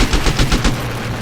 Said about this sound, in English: Didn't expect a tail gun, did you?